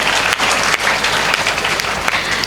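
A large audience at a Tamil debate event held for a temple consecration claps loudly and densely, a thick, continuous burst of applause with small swells and no voices over it.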